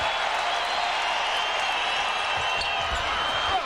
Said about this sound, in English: And this Bulls crowd just eats it up. Look at this place go crazy.